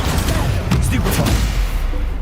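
Stupefy stunning spell cast in the video game Hogwarts Legacy, a dense loud burst of magical impact sounds with thumping booms repeating through a busy combat mix.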